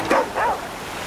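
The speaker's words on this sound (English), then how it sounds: "Alright, I hear you, dog." Two short, high barks with a yelping pitch rise from a dog in the survival video game The Flame and the Flood, close and clear, followed by quiet.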